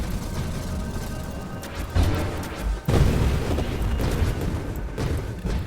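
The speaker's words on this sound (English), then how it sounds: "Oh god, that's a lot of grenades hitting me." Grenades detonating in the space shooter game Nova Drift, a cluster of heavy booms and crashing blasts that hit in several loud waves over a continuous rumbling background.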